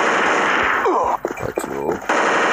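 Gunfire from the mobile shooter game CrossFire, loud bursts of rapid game shots filling the short span, with someone speaking briefly over them midway.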